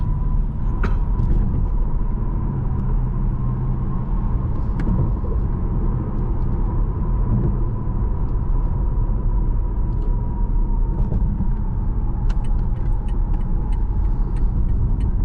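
A 2021 BMW M8 Gran Coupe accelerating hard, a steady loud engine drone with road rumble heard from inside the cabin, plus a few faint clicks.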